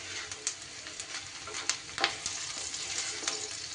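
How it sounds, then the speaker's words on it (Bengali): Onion frying in a pan for a fish roe dhoka, a continuous bright sizzle with small pops and crackles throughout, close and fairly quiet, with no talking. "একটু বাদামি করে পেঁয়াজটাকে আমি ভেজে নেব"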